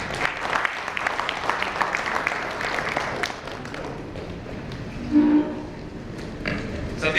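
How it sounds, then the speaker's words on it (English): An audience claps after a corporate presentation, with a dense burst of applause for the first few seconds that thins into scattered claps and room noise. "big round of applause to Mr. Satish Kashyap"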